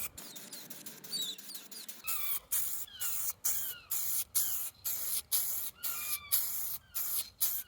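An aerosol can sprays paint in light dusting coats, short repeated hissing bursts of about half a second each in a steady rhythm, close and fairly quiet, with no talk.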